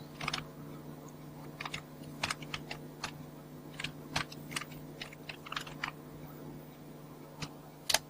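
Code being typed on a computer keyboard, quick irregular bursts of close key clicks with short pauses between runs, no voices.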